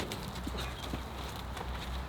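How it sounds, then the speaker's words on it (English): Horse hooves clip-clopping quickly on the ground as the animal hurries away, a rapid, even rhythm of quiet hoofbeats over background noise. "Horse is leaving in a hurry."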